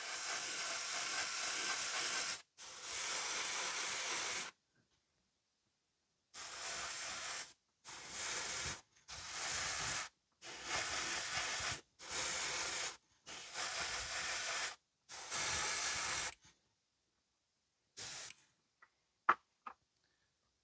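Airbrush spraying inexpensive acrylic craft paint in repeated short bursts of broad hiss, each lasting one to two seconds with brief pauses between, ending with a few faint clicks.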